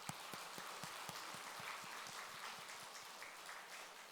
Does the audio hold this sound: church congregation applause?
yes